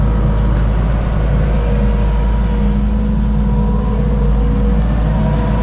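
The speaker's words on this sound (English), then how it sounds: "We typically borrow a dump trailer to haul manure to some of our more distant fields" A truck pulling a borrowed dump trailer loaded with manure, bound for distant fields, gives a loud, steady low engine rumble that drones on without a break and with no voices.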